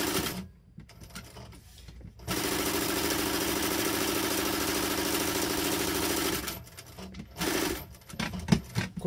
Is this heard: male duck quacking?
no